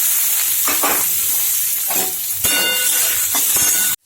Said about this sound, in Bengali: অল্প একটু সরষের তেল দিব তেলের উপরে কালো জিরা ফোড়ন আর কেটে রাখা পেঁয়াজ কুচনো দেবো